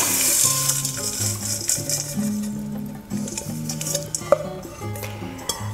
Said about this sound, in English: I'm ready to stir this up with the wet into the dry